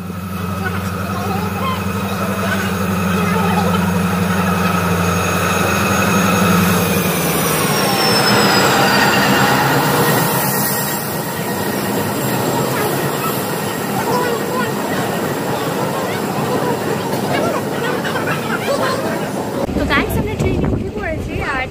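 A train pulls into a railway station. A loud, steady rumble of wheels and carriages carries long high wheel squeals that bend and slide in pitch as it slows, with people talking underneath.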